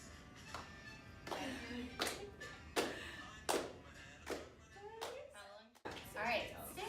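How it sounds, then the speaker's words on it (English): A group of people clap together along to a song from a phone during a class music activity, with about eight spaced bursts of claps, moderately close, and talk heard between them. "So you guys will clap."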